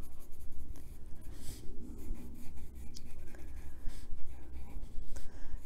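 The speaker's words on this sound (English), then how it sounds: "Any area that you want darker, you just add the pencil into." Colored pencil shades a tree drawing on paper in close, scratchy back-and-forth strokes that rise and fall in steady rhythm, heard alone.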